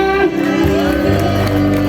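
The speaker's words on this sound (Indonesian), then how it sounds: "Tamu-tamu mana suara yang boleh minta tepuk tangannya?" Wedding guests at a traditional Sundanese wedding cheer and clap as a loud crowd, a continuous burst of whoops and applause filling the short moment over warm background music.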